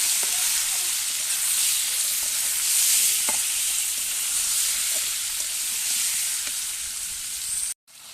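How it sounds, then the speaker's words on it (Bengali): Marinated chicken pieces sizzle steadily in a pan with garlic and potatoes, a loud continuous frying hiss broken by occasional scrapes of a stirring spoon, cutting off abruptly near the end. "এই যে আমার গোশ ভাজাও হচ্ছে, এদিক দিয়ে রান্নাও হচ্ছে।"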